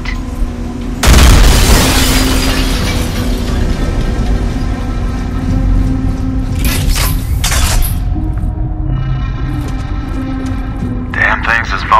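A promethium blast in the sci-fi shooter Alien Rage hits as a loud, deep boom with a long rumbling tail, followed by further bursts and mechanical clatter under steady game ambience and a talking voice.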